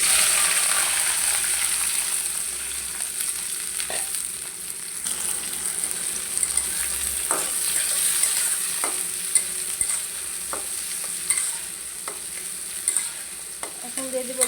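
Onion and chili frying in hot oil in a wok on a stove, with a continuous bright sizzle and occasional scraping stirs and clinks over the steady hiss throughout.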